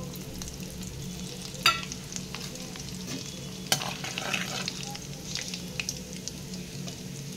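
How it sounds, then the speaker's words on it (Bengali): Whole spices fry and are stirred in hot oil in a kadai for an egg curry, giving a continuous soft sizzle with scraping stirs and two sharp spatula clinks against the pan. No one speaks. "কড়াইতে আমি ফোড়নে সব মশলাগুলো দেব।"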